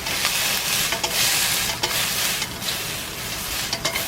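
Mushrooms and onions sizzle in oil in a heavy skillet on a Coleman camp stove, a steady bright hiss broken by occasional scraping stirs, close and continuous with no talking.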